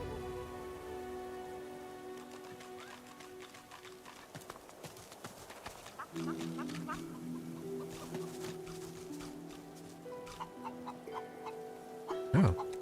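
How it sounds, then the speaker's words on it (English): Chickens cluck in the fantasy role-playing game Divinity: Original Sin 2, set against in-game ambience with hoof-like clip-clop and patter, and a brief sharper burst near the end. "Oh, chickens."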